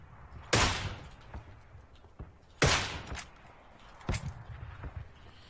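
Gunfire in PlayerUnknown's Battlegrounds, three loud separate shots with short ringing tails spaced a couple of seconds apart, heard alone with no talking.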